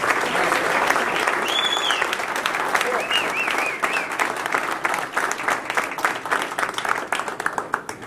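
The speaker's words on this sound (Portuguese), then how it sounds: "uma salva de palmas para o nosso recém-chegado" Sustained applause from an audience at a Brazilian political rally welcoming a newcomer, dense steady clapping throughout with a few whistles and cheers mixed in.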